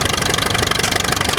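A Case tractor with a sideways-mounted engine pulls an old four-bottom plow, its engine running close and loud with a rapid, even chugging knock and steady vibration.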